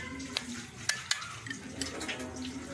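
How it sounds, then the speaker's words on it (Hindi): A spoon stirs black pepper, coriander and cumin powder into homemade pizza sauce, with soft wet swirling and several light clinks against the bowl. "अब इनको अच्छी तरह मिक्स कर लेंगे।"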